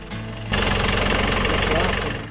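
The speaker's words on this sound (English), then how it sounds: "I'll shut the engine down." A sailboat's inboard engine runs loud and close, a steady rhythmic chugging rumble that rises to full strength after a brief quieter start and continues throughout.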